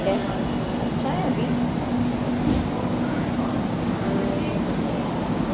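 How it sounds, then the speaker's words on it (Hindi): Inside a carriage of the Ahmedabad metro, a steady low rumble and hum of the moving train continues throughout, with faint brief rattles and squeaks. "ये मेरी फर्स्ट मेट्रो राइड है।"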